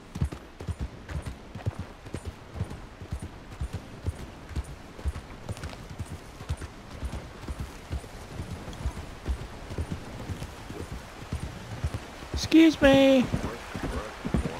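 Rapid rhythmic clip-clop of a horse galloping in Red Dead Redemption 2, steady hoofbeats throughout with someone talking over them and a short neigh near the end.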